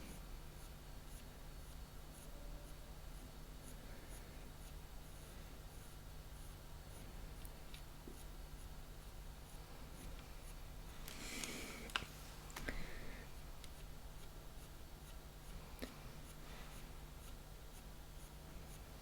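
Coloured pencil drawn very softly across paper with the lightest pressure while shading fur, giving a faint, steady, close scratchy whisper with a few tiny ticks and a brief louder scrape partway through.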